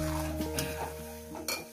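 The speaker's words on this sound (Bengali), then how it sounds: "দিয়ে ভালো করে সুন্দর করে আমি মশলার সঙ্গে কষিয়ে নিই" Metal utensil scraping and clinking in a pan as spice paste is stirred and fried for Bengali aloo dum, soft and close, with a steady hum beneath and a few sharper knocks.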